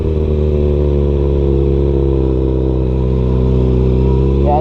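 A motorcycle engine drones steadily and loud throughout, close and continuous as the bike is ridden, with a slight rise in revs near the end and no talking.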